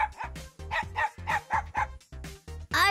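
A dog gives a rapid string of about ten short, close barks and yips at an even pace, ending in a higher whining note, with no speech over it.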